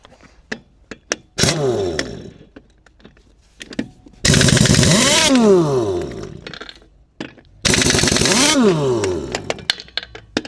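Air impact gun on a Peterbilt cabover truck with an N14 Cummins, hammering off rusty inner hub lug nuts; two long loud rattling bursts with shorter blips between them, up close and with no talk.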